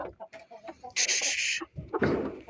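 A chicken clucks and squawks in short bursts, with a couple of sharper, louder calls partway through, fairly close by.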